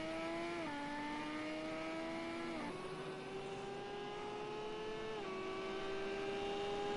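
Race cars lapping Hockenheim in a racing video game, quicker than GT4 cars: a steady high engine whine holds throughout, pitch climbing and stepping down at each gear shift, close and continuous with no talk.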